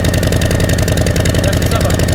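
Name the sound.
Harley-Davidson motorcycle engine idling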